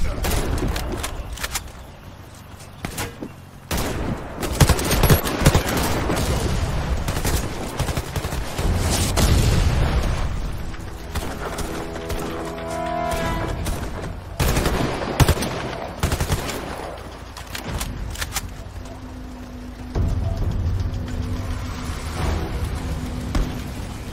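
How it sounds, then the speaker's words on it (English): Bursts of automatic gunfire striking a vehicle in the Xbox video game Warface, loud and sustained with dense rapid fusillades, interspersed with engine rumble and faint in-game voices. "Our vehicle is under fire."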